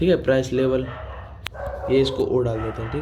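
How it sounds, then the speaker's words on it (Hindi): Dogs bark and yip nearby in short repeated bursts, heard under a man's ongoing speech. "कुत्ते ज़्यादा भौंक रहे हैं"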